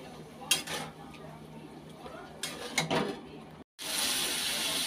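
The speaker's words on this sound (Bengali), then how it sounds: "এখন ভালো করে মশলাটা কষিয়ে নিই।" Spice paste with turmeric and salt stirred and fried in a pan: a low sizzle under scattered metallic scrapes and clinks of a spoon, a brief pause, then a louder, brighter sizzle rising near the end.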